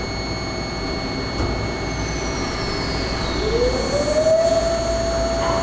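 An engraving machine spindle runs at 40,000 RPM with a loud, constant high whine over a steady mechanical hum. A rising tone creeps in near the end and then holds.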